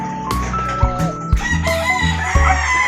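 Several breeding gamefowl roosters crow loudly and close by, their strained, overlapping calls following one another with a few clucks between.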